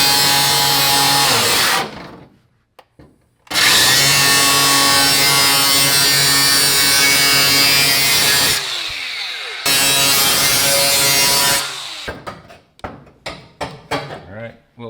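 A small flap wheel on a power tool grinds against a car part for a classic 1955 Chevy being fitted with a NASCAR V8, running loud and steady in two long bursts, then ending in short stuttering pulses.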